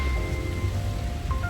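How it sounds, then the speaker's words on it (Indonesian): Steady rain falls throughout, a dense broadband hiss with low rumble, heard during a roadtrip drive from West Java to Riau in a 2016 Daihatsu Ayla, with faint tonal hums beneath the downpour. "Hujan."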